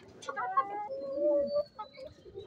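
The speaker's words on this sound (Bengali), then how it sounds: "এই যে আমার মুরগিগুলা।" Hens in a rooftop coop make a few short, close clucking and warbling calls, rising and falling over a couple of seconds.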